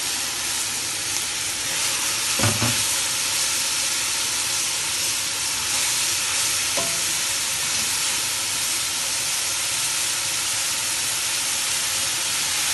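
Carrots and celery frying with bacon in a pot for cabbage soup, a steady hissing sizzle throughout with a couple of brief clatters, no talk.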